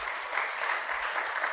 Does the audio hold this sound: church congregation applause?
yes